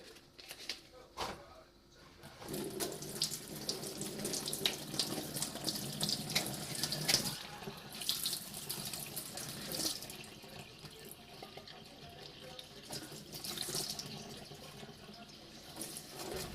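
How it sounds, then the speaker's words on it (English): Warm water runs steadily from a tap over a tin can while its paper label is peeled off, a continuous splashing flow with faint handling noises. "I normally do this under running warm water as this helps the paper to come away cleanly"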